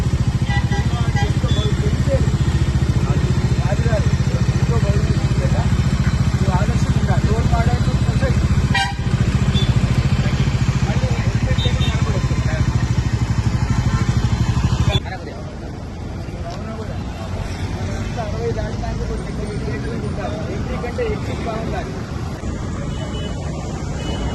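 A motorcycle engine rumbles steadily alongside traffic noise and people talking, with a brief honk-like burst partway through and the din easing slightly near the end.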